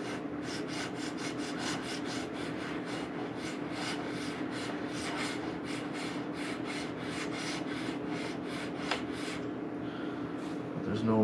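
A lapping tool rubs scope rings with abrasive grit, a rapid, rhythmic back-and-forth gritty scraping of about two strokes per second that continues steadily at moderate volume.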